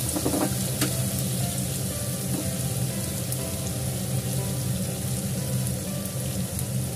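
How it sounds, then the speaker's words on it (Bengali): Garlic and green chillies fry in oil with a loud, steady crackling sizzle like rain on a hot surface, close and constant throughout, with no talk over it. "আমার রসুন আর কাঁচা লঙ্কাটা ভাজা ভাজা হয়ে গেছে, এর মধ্যে দিয়ে দেবো"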